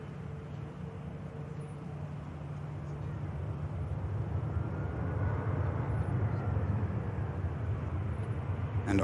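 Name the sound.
Eurowings aircraft on final approach, arriving from Dusseldorf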